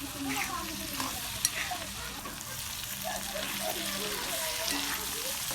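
Dry bottle gourd and green chili stir-fry stirred in a pan, a steady soft sizzle with scraping stirs throughout, fairly close, with faint voice in the background.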